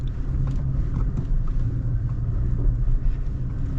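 Toyota Tacoma Trail Edition pickup crawling slowly off-road in four-wheel low on Utah terrain, a steady low engine rumble with faint rattles and knocks, continuous and close throughout.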